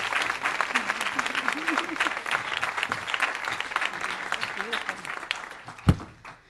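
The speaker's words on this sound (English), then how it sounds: "please give a huge round of applause to Joni Steele Kimberlin." Audience at a women's healing and empowerment forum applauding a speaker, sustained clapping that fills the hall while a voice talks over it, ending with a loud thump near the close.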